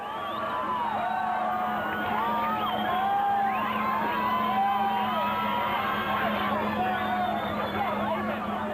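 A large crowd of fans cheers and whoops at the finish line of the Toyota 1000 rally as the special vehicle category leaders arrive, many overlapping shouts and whistles rising and falling over a continuous hubbub, with a steady low hum underneath.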